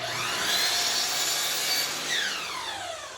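A miter saw sweeps through wood set at a 45-degree angle, a steady loud buzzing rasp of the blade through the board that lasts about three seconds with no talk.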